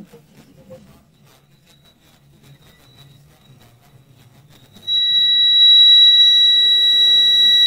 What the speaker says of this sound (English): then this beep will turn off